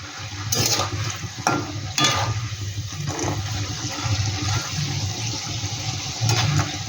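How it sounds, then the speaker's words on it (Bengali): Steady bubbling and hissing of stale bread pieces frying in oil, with a few sharper clatters and bursts of crackle over the continuous sizzle. "দেখো কত সুন্দর ভাজা হচ্ছে"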